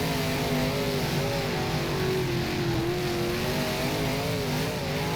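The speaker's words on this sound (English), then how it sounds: "So we've got another car jumping into the pits there." V8 dirt modified race car engines roar continuously in the rFactor racing game at Avalon, a loud, steady drone with wavering pitch as the cars run on.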